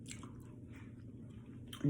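Someone eating homemade beef stew with rice and cornbread, producing soft, close, wet chewing and squishing sounds that continue steadily, with a louder bump right at the end.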